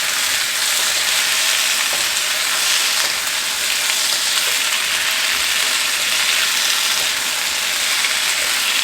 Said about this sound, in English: Saute these up.